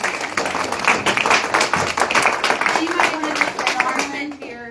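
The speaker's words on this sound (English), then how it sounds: "Can we get one more round of applause for" A round of applause at a town hall meeting, steady clapping from a group lasting several seconds and tapering off at the end, with some talk underneath.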